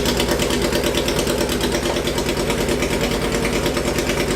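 Hayabusa engine swapped into a Mini Citicar idling close by, a loud, steady, rapid mechanical pulse with a buzzy vibrating rumble and no talking.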